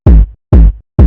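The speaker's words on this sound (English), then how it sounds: "add this thumpy kick," A heavy, booming kick drum for a phonk track hits three times at an even, steady pace, each thump loud, close and deep with a short decaying tail.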